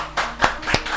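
A church congregation gives a short burst of applause during a sermon, a few distinct hand claps ringing out close by in quick succession.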